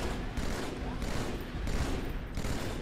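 Battle rifle fire in the video game Halo 2 Anniversary comes as repeated bursts of gunshots with booming echoes, heavy and continuous over a few seconds.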